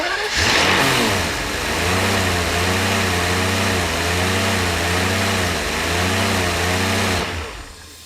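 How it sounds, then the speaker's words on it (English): A Mercedes 600SL V12 runs with the driver's side EA power disconnected, its loud close engine note holding steady with a slow wavering rise and fall in speed before cutting off near the end. "Attempting to run with the driver's side EA power disconnected"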